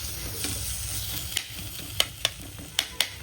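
Tomatoes and onions fry in a pan with a low, soft sizzle, punctuated by several sharp spoon clicks and scrapes against the pan near the end, close and fairly quiet, with no talking.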